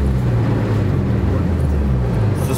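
A Mitsubishi Lancer Evolution 9 sits idling while its turbo cools down, a steady low engine rumble heard close and constant, with no voices.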